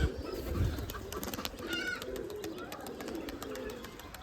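Giribaz pigeons, older flying birds three to four years of age, give low cooing calls that murmur steadily alongside a few brief higher chirps and some background movement.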